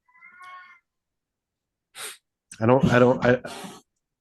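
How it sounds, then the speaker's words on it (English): Two house cats scuffle behind a computer, giving a short meow, then a sharp hiss and spitting, yowling noises, loud and close with quiet gaps between. "We're having a fight back behind my computer. There's two kitties, Summer and Squeaky."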